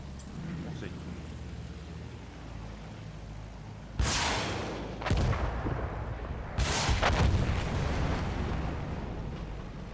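Aircraft rockets in Battlefield 1 strike ground targets in three heavy bursts, each a sudden loud blast with a rumbling tail, over a steady engine drone while players talk.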